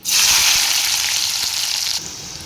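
Onions hitting hot oil let out a loud burst of sizzling that holds strong and then eases slightly toward the end, close up and with no voices.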